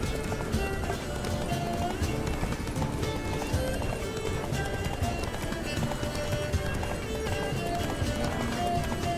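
A horse gallops steadily in The Witcher III: Blood and Wine, its rapid hoofbeats drumming continuously with an occasional neigh, while in-game music and some talk sit underneath.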